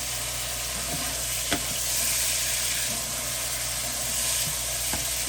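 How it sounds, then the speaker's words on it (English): Beef and mushrooms sizzling on high heat as their grease reduces, a dense continuous hiss with a low steady hum beneath and a few faint clicks from the pan, without speech. "keep it on high because I'm going to let that grease in there reduce all the way down"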